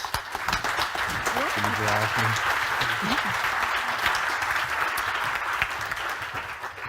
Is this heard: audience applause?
yes